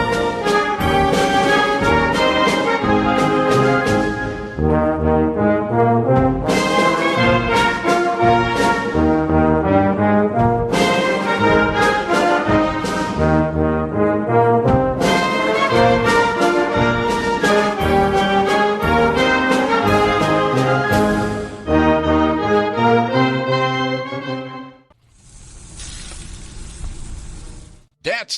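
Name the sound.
sizzling dry-aged Wagyu and Angus steaks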